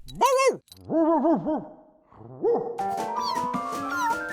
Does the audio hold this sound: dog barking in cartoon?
yes